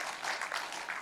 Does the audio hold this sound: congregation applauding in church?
yes